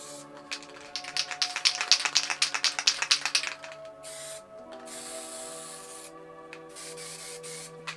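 A spray paint can fired through a stock cap sputters in a quick series of rhythmic, hissing bursts, then gives a longer, steadier spray hiss, close up with no talking.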